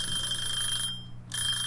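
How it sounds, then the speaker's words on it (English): Kitchen timer alarm ringing in a steak cooking simulator game, a continuous shrill electronic beeping that drops out briefly and then resumes, loud and alone. "Somebody shut that fucking timer up"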